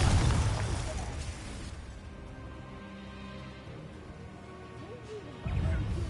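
Confringo blasting spell explosions in Hogwarts Legacy: a loud fiery burst opens, fading into a rumbling tail, with a second blast hitting near the end over quiet ambient game sound and faint voices.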